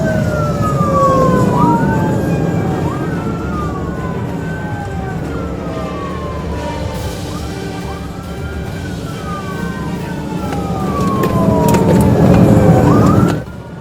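A police car's wailing emergency siren during a high-speed chase on a US highway, loud and close, its rising and falling sweeps layered over heavy road and engine rumble, with no talk.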